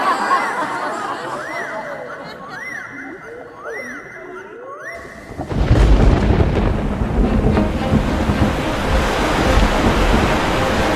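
A thunderstorm with pouring rain during the great flood: after a musical opening, a loud, dense roar of heavy rain and rumbling thunder bursts in midway and fills the rest, steady and close.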